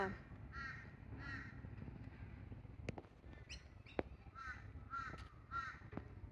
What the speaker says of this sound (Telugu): ఇక్కడ కాకులు బాగా ఉన్నాయండి. చాలా చక్కగా మన భాషలోనే అరుస్తున్నాయి కూడా, కాకా అని.